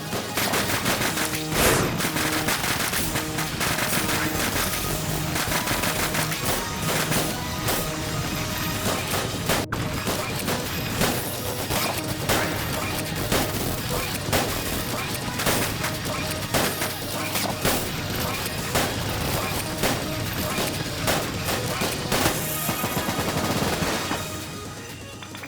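Dense, nonstop gunfire and missile blasts fill the Enter the Gungeon final boss fight, a loud, cluttered barrage of rapid shots and impacts over game music that barely lets up until it eases near the end.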